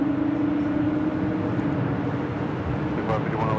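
A Breeze Airbus A220-300 airliner rolls on a runway at LAX, a loud steady engine roar and rumble throughout with a voice talking over it.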